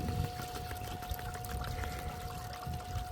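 Water and gravel from a bucket pour through a homemade sluice mat, a steady, close, continuous rushing wash with gritty churning underneath that keeps going without a break.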